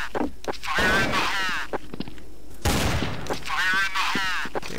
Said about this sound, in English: I hear a lot of shooting at me.